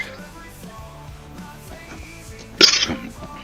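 A single sudden cough from a person at a live outdoor show in Palisade, Colorado, loud and close, cutting through quiet background music.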